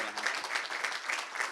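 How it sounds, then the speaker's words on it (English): An audience at a programming competition final gives a brief round of applause for the winners. The clapping is moderate, close and slightly rhythmic, with faint voices mixed in. "Round of applause, everyone."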